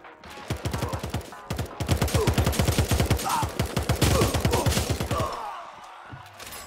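Rapid, steady gunfire bursts from the video game Radical Heights, close and loud, with dozens of evenly spaced shots in a long run that briefly pauses and then resumes.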